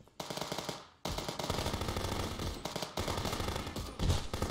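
Sustained automatic gunfire in the Contraband Police video game, dense rattling bursts aimed at the player that continue almost without pause, loud and close.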